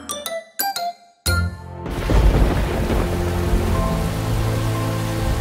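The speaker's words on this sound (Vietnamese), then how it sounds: "Tự dưng trời lại đổ mưa thế này." Heavy rain pours down in a dense, steady roar with a low thunder rumble, starting abruptly after a few short chime-like tones and continuing loud to the end.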